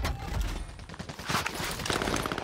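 Loud, rapid bursts of automatic gunfire in Call of Duty Warzone on the Caldera map, crackling almost without pause in a dense, close exchange.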